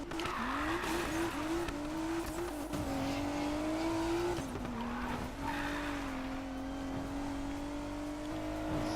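Car engine in a racing video game driving a BMW-style tuned car, steady revving tone that climbs and shifts through gears with tyre squeal, loud and continuous throughout.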